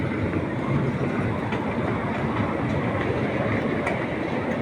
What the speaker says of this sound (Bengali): এখানে ট্রেন চলতেছে